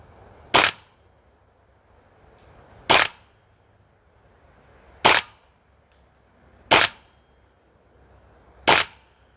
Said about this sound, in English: You can tell that as you're firing through the mag, the pressure's like dropping dramatically.